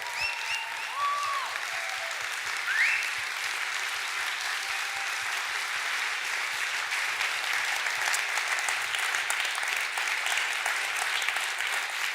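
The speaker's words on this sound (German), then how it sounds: "lasst uns dem ganzen Onesimo-Team einen riesen Applaus geben" Sustained applause from an audience for the Onesimo team at a Sunday church service, even, steady clapping at moderate volume with a few faint tonal sounds in the background.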